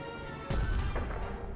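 An artillery gun fires in the war game Foxhole, a single sudden boom with a rumbling tail over a steady game background, no voices.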